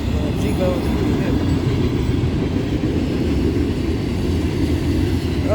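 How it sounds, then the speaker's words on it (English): A freight train led by two AC44C6M locomotives, hauling three Wisconsin Central boxcars, rolls past with a loud, steady, close rumble that holds through the whole stretch without a break. "This train would have an AC-44 C6M, along with another AC-44 C6M, along with a couple Wisconsin Central boxcars"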